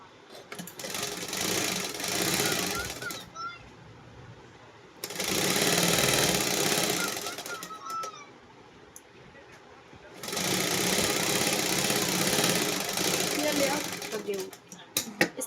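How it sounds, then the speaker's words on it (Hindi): A sewing machine stitches suit sleeves in three loud, close bursts of rapid mechanical chatter lasting a few seconds each, separated by quiet pauses in which a person talks. "अब इसको सिल लेंगे।"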